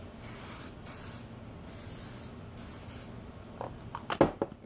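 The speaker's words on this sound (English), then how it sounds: "take your hairspray and lightly spray your hair" Hairspray sprayed onto hair set on foam rollers for a vintage wet set, heard as three or four steady hissing bursts, each a second or so long, close and alone, followed by a few light handling taps.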